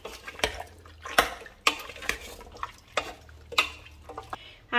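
Pieces of pork and koorka (Chinese potato) get stirred together in a pot, giving irregular scraping and clanking knocks of a spoon against the metal alongside wet mixing sounds, close up and fairly quiet.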